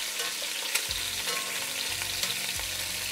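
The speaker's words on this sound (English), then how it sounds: "The chicken is almost frying in there." Oil sizzles and crackles steadily in a pan as slightly wet chicken fries, with occasional low thuds and pops and no one talking.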